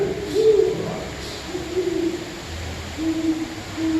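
Deep, soft hoots of a great horned owl at a live bird show come in a slow series of about four calls. They sound moderately near, with light background noise and little talk.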